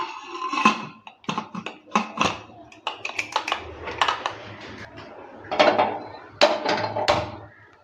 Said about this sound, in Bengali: আর ঢাকনাটা দিয়ে বন্ধ করে নিচ্ছি